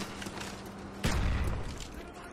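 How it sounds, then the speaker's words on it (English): A frag grenade blasts in a Call of Duty: Black Ops match, a sudden booming burst amid faint gunfire and game noise, then a rumbling tail. "Random frag grenade."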